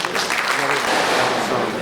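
Audience applause fills a hall at a Pakistani Independence Day celebration in Houston as a host is welcomed to the stage, a dense, steady clapping that continues throughout without letting up.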